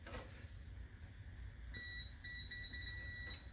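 A thin, high multimeter continuity beep sounds faintly and continuously through low rumbling background noise beneath a Porsche 914 with a charging fault, starting partway in and holding steady.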